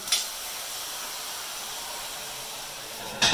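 Ice cubes dropped into a hot Dutch oven beside sourdough bread erupt into a loud, steady hiss of steam, with sharp bursts at the start and end.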